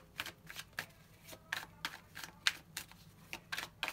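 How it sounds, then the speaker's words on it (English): Yin Yang Oracle cards being shuffled and drawn for a tarot-style reading, with close, crisp riffling snaps repeating in a loose, steady rhythm over about four seconds, with no talking. "let's use these Yin Yang Oracle cards. Let's get three cards for Taurus"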